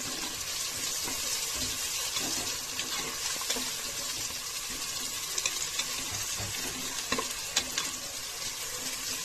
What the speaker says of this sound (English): You can see the onions are still frying.